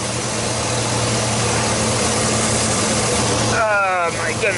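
A Chevrolet Silverado engine idles with a misfire, a steady low rumble holding throughout at close range, with a brief higher whining sweep near the end.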